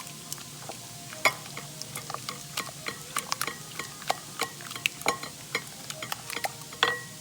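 Breadcrumbs and two eggs get mixed together for meatloaf, with a utensil tapping and scraping the bowl in irregular clicks over a soft, wet background.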